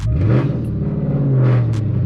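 A Dodge Challenger with a manual transmission pulls away from the clutch friction point, its engine giving a low steady rumble that rises slightly as the car moves off, loud and close with no talk.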